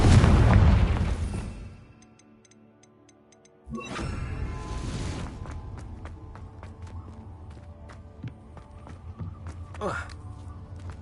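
In Hogwarts Legacy, a Confringo explosion spell goes off with a heavy boom at the start. A second blast follows a few seconds later, and a lingering rumble and scattered debris pops trail after it. A voice is present underneath.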